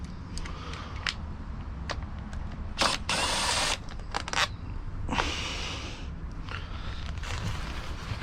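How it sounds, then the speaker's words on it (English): A power drill whirs in short bursts removing a screw from a 2020 Yamaha R1 motorcycle fairing, one longer high-pitched run in the middle, with clicks and handling noise around it. "Where's my drill? Let's make things going fast a bit."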